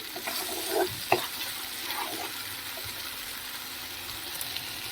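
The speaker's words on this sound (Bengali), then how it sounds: "মশলাটা দেখো ভাজা ভাজা হয়ে এসছে সাইড দিয়ে তেল ছাড়া শুরু হয়েছে" Soft sizzling of spice paste frying in oil, broken by a few scraping stirs and clinks of a spoon against the pan, steady and close.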